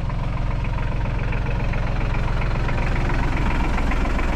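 A tractor engine with a tiller attachment idles steadily and close by, a continuous low, even chugging rumble with a regular pulse and no speech over it.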